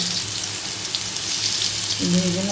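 Long-cut potato slices frying in hot oil with black cumin seeds. A steady, dense sizzling hiss plays throughout, with a brief voice near the end.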